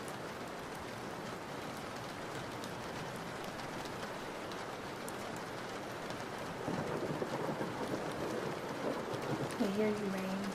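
Steady rain pours down in a video game scene, a dense, constant hiss throughout with a low rumbling swell toward the end, while a voice speaks briefly near the close.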